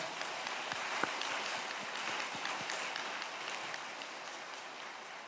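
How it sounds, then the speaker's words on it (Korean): A church congregation claps in encouragement for its shepherds at a joint worship service, a faint, dense patter of many hands that carries steadily for several seconds before gradually thinning out. "우리 목자들에게 한번 격려의 박수 한번 해주시겠습니까?"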